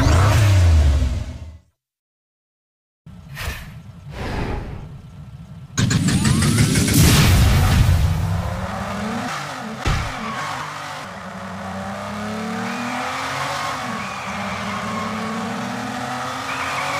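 A toy race car accelerates in the Hot Wheels Unlimited video game. After a short opening sound and a moment of silence, a loud engine roars and revs up, with tire squeal and skidding layered over the sustained drive.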